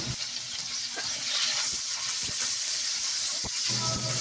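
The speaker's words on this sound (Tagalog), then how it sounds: "Haluin natin itong mabuti para mag-balance ang pagkaluto nito." Crabs being stirred in a hot pan, a loud continuous steamy hiss and sizzle with occasional knocks and scrapes of the spoon.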